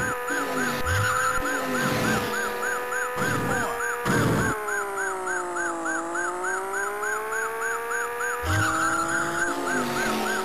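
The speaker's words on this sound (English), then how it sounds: "we're driving a high speed Porsche down the road chasing a high speed Lotus Esprit" A Porsche chasing a Lotus Esprit in the Amiga racing game Chase HQ: a steady synthesized engine drone with warbling, siren-like tones rising and falling, loud and continuous with no talk.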